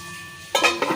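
A metal lid comes off a cooking pot of simmering okra and potatoes in a home kitchen, giving two quick, bright clanks near the end, close by, after a faint quiet stretch.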